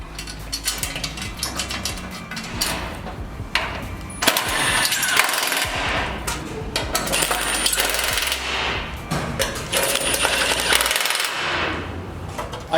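Bolts on a bull bar being tightened on a Mazda BT50 pickup, likely with a power impact tool: loud, close rattling bursts of rapid hammering that stop and start repeatedly, with metallic clinks and short pauses between runs and no talking.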